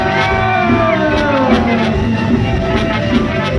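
A concert crowd at a Thai luk thung show roars, whoops and shouts loudly and continuously, a dense wall of cheering voices filling the venue.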